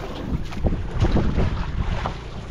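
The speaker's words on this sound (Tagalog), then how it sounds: "Ang dami lakas na naman ng hangin mga idol." Strong wind buffets the microphone in low, rumbling gusts during a grouper fishing trip, with the wash of water and a boat nearby underneath.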